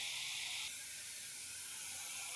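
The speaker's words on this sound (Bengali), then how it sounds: "তো দেখুন কত সুন্দর ভাজা হচ্ছে।" Potatoes frying in a pan make a steady, even hiss that stays constant throughout, close and moderately quiet, with no voices.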